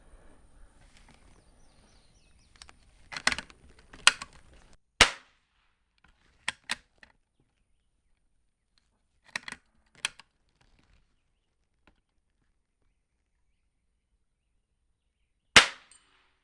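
Savage 120A rifle fired at a steel target outdoors: several sharp, isolated cracks spaced seconds apart against quiet, with faint clicks of the manual action in between.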